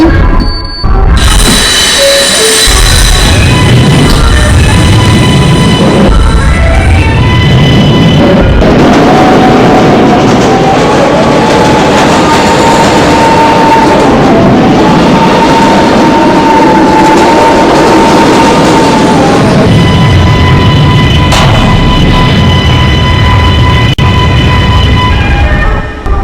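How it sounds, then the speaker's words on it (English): An R142A 4 express subway train running on the Bronx-bound line, as heard in a train simulator game: loud continuous rumbling motor drone with a rising and falling whine and steady track noise, with no talk. "This is a Bronx-bound 4 express train."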